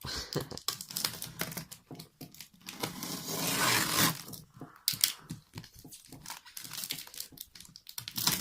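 Tape rips and crinkles in bursts as it is torn off a heavy parcel, close and fairly loud, with short pauses between pulls and no talking.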